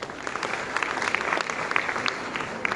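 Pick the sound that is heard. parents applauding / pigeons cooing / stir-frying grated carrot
parents applauding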